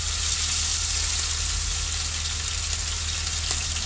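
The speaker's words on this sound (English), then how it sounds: "in goes the monstrous steak, and you put it in and you hear that sizzle" A large sirloin steak sizzling in a hot pan, a loud, steady, close frying hiss that continues unbroken, with a low hum underneath.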